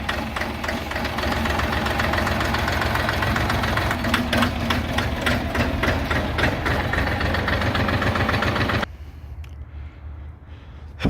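An Orion 244 tractor engine runs loud and steady with a heavy, knocking rumble while its hitch presses down, then drops abruptly to a quieter idle near the end.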